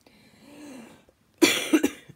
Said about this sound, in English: So then I just been coughing like